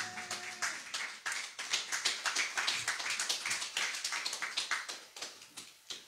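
A church congregation claps together in a steady, lively rhythm, a dense crowd of hands beating a quick repeated pattern for several seconds with no talking over it.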